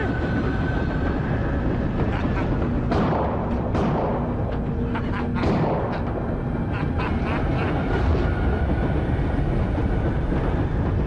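Moving train in a horror film scene, a steady loud rumble that runs throughout with sharp clanks and rattles of the railcars around the middle.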